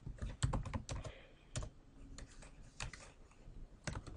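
Typing on a computer keyboard while entering a school name on a homework site: quick bursts of clicking keystrokes, close and fairly quiet, with short pauses between runs.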